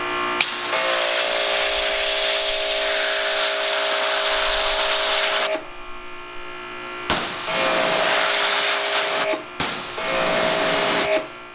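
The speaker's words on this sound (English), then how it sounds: "Can one use their pressure washer to remove those stubborn dandelion weeds?" A Ryobi 2,300 PSI high-performance pressure washer blasts dandelion weeds with a loud, steady, broadband hissing spray that cuts out briefly a few times and restarts, with no talking.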